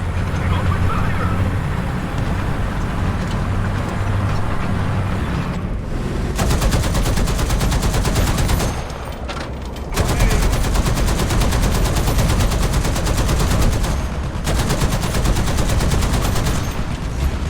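Artillery strike and sustained gunfire in War Thunder, a dense continuous barrage of rapid machine-gun fire with heavy booming blasts, loud and close, with a brief lull midway before the firing resumes.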